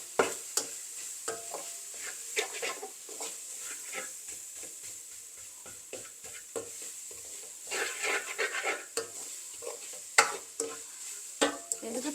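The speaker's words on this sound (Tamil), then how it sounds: "வெங்காயம் இன்னும் கொஞ்சம் வதங்கணும்." Onions sautéing with curry leaves in a pan while making a dried baby prawn sambol, a steady soft sizzle with repeated scraping stirs of a utensil against the pan, close and alone.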